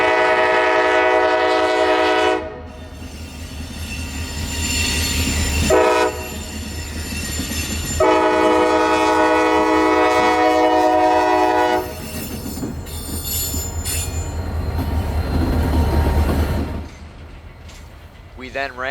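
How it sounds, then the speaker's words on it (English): A CSX freight train on a rail spur passes close by, its horn sounding in long blasts over the steady rumble and clatter of the wheels. "This is a train that heads down to Eton Park on CSX's CH Spur"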